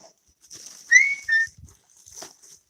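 Short whistled notes, a couple of quick rising tones followed by a fainter whistle, near and clear against quiet.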